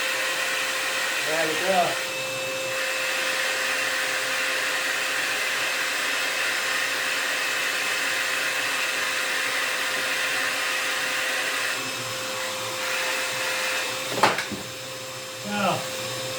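A DIY drill dust extractor switches on and runs with a steady, close whine like a small vacuum motor, continuing throughout while a person speaks briefly near the start and end.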